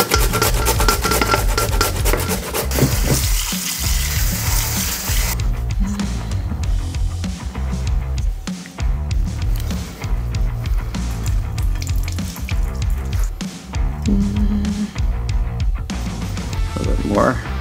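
Yukon Gold potato pancakes fry on a grill over the firebox of an offset smoker, giving a steady, close sizzle and scraping throughout while someone talks over it.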